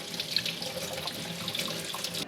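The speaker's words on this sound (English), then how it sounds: "Make sure you wash all your fruit." Tap water running into a sink while fruit is washed for a fruit salad, a steady close splashing flow with small bursts of movement under the stream, with no talking.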